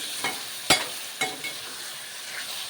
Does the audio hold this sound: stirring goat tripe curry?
yes